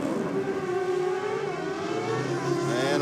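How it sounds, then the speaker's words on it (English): A high-revving Kawasaki racing motorcycle engine at a Nitro Champs track holds a sustained, steady whine at close range, its pitch wavering slightly and climbing near the end. "On the track mics, all we hear is Edge Malice's Kawasaki."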